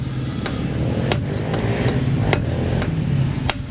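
A hammer knocks on the steering bearing of a Kawasaki Z1000 motorcycle, landing about eight sharp, separate strikes at uneven intervals over a steady low workshop rumble.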